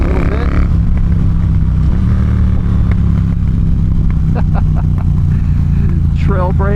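A Triumph T120 motorcycle engine drones loudly and continuously while riding, a close, heavy rumble that rises and settles with throttle changes under strong wind noise.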